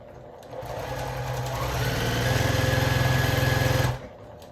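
A sewing machine stitching quilt blocks runs steadily close by, its rapid mechanical stitching speeding up partway through before stopping abruptly near the end.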